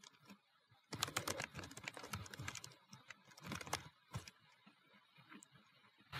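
Computer keyboard typing while drawing a GCP architecture diagram, in bursts of quick close keystrokes with short pauses between runs.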